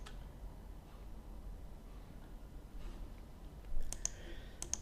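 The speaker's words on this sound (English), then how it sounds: "I'm going to go ahead and click the continue button." A computer mouse clicks the continue button on an online copyright filing form: a couple of faint, sharp clicks near the end, with a soft second pair just after, over quiet room noise.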